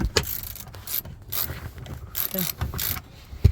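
A hand ratchet clicks in short, uneven bursts while backing a long screw out of the rear seat of a Chevy Avalanche, close by with occasional knocks, and a person briefly speaks.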